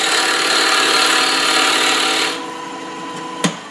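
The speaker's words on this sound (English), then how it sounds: "Gonna get my tenon going here." A small wooden piece spins on a lathe while a gouge cuts a tenon, producing a loud, continuous scraping rasp that drops to a quieter whir partway through, with one brief knock near the end and no talking.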